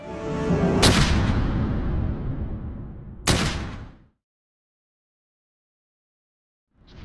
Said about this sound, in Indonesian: sebuah tembakan melesat mengenai dada Saburo